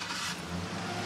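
A 2006 Chevrolet Silverado with a 4.8 V8 cranks and catches, its engine note rising into a steady, close rumble that fills the whole brief moment without any talk.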